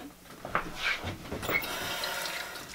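Tap water runs into a sink while fingers stained with cochineal dye are rinsed under it, a close, steady gushing and splashing with small shifts as the hands move through the stream, and no voices.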